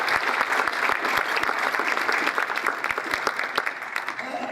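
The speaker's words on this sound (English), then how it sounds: "Would y'all give them a round of applause?" Audience applause for nonprofit and agency members at a philanthropy talk, dense sustained clapping from a sizeable crowd at steady, fairly loud level throughout.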